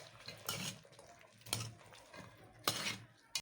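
Metal utensil scraping and clinking against a cooking pot while stirring peppers and spices for mabakbaka, a few intermittent scrapes over a low kitchen hum.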